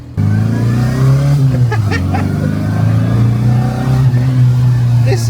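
A Gen 5 Mini with straight-cut gears drives close by, its engine droning and revving with a steady gear whine. Voices talk over the sound.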